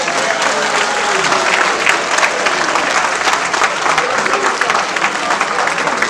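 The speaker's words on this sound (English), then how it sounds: "Another round of applause for our beloved Executive Vice President of the Federal Republic of Nigeria" Large audience at an evening event honoring a vice president claps in a dense, loud, continuous wash of applause that holds steady from start to finish.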